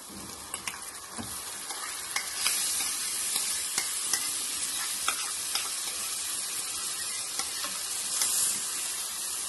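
Marinated mutton and keema sizzle steadily in a hot pan while being stirred for a Punjabi keema rara, with a continuous frying hiss and occasional scraping clicks, close and fairly quiet, no talk.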